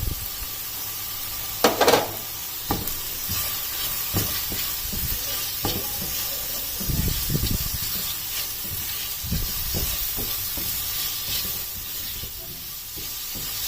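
Boneless chicken seasoned with crushed red chili and tikka masala cooks in a pan, giving a steady soft sizzle with occasional stirring clatters and scrapes, fairly close and moderate in level, with no talking.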